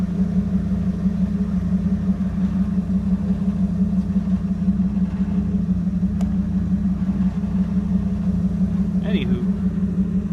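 A 1991 Volkswagen Jetta turbo diesel with exhaust stacks idles in a steady, loud, low rumble, with a couple of faint clicks.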